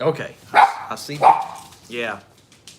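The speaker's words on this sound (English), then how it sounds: "The dogs are barking," Several dogs bark in sharp bursts indoors after a doorbell, loud and close, mixed with a person talking briefly.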